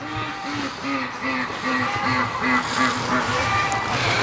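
Several ducks quack steadily in a rhythmic series, close and fairly loud, over a busy outdoor background.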